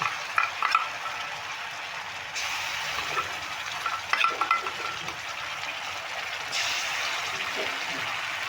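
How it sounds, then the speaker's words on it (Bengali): Soaked spice paste of coriander, chili, garlic and ginger hits hot oil with a loud, steady sizzle for the whole stretch, broken by a few stirring scrapes and light clinks of the spoon against the pan. "এবার আমি মশলাটা দিয়ে দিচ্ছি"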